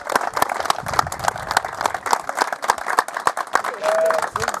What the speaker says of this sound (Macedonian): аплауз ако може да е.